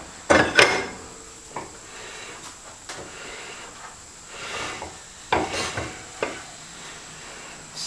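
Brake rotor rubbing against new Power Stop pads on a Jeep Wrangler JK, heard as a few scraping, rasping passes of varying loudness with quiet gaps between, close and with no talking.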